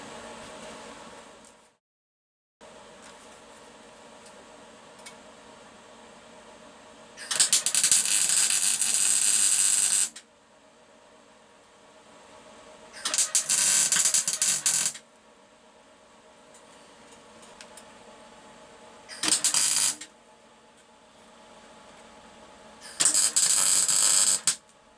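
Tack welds joining a bracket to a motorcycle frame on a bobber restoration: four separate bursts of harsh, crackling buzz, the first and last lasting a few seconds, with a low workshop hum between them.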